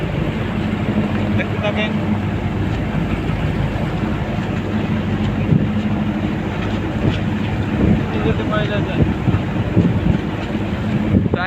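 The Doel Pakhi 8 passenger launch rushes past at high speed on the Dhaleshwari river, a steady broadband engine and water rumble that fills the whole stretch while someone talks over it.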